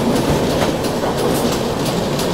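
A Chennai Express passenger train runs on rails near Mumbai, a loud steady rumble with rhythmic clickety-clack of wheels over rail joints throughout, no voices.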